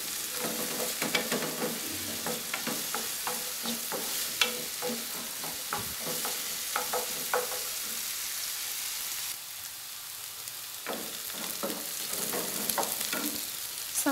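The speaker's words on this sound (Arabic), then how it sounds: "صافي عندي راه فوق البوطه تشحر" Salted filling sizzles steadily in a pan on a gas stove, a continuous close frying hiss with scattered pops and occasional stirring scrapes, no talk.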